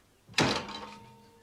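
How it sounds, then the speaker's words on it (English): A door shuts with one loud, close thunk, then a resonant ringing decay that fades over about a second, with no voices. "The door won't stay open."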